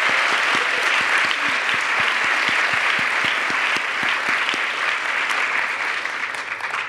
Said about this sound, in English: please join me in also giving these authors and translators a huge round of applause